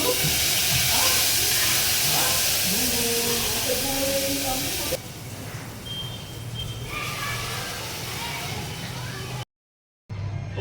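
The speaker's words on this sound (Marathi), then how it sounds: "हे बघा मस्त खतखत वरण उकळले." Dal (lentils) boiling hard in a pot on the stove gives a loud, steady hiss of steam and bubbling that softens halfway through and cuts out briefly near the end.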